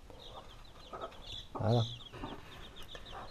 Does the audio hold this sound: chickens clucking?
yes